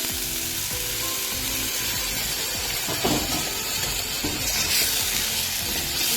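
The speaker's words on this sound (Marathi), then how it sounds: "गॅसवर एका बाजूला मी पाणी गरम करायला ठेवलं होतं त्यात थोडं पाणी टाकायचं" Hot water is poured into soya chunk masala sizzling in a pan on a gas stove, a steady loud frying hiss with stirring clatter and a brief splashy rush of liquid partway through.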